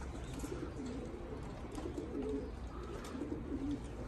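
Low, soft cooing from birds repeats in gentle phrases over a steady background hum, fairly close.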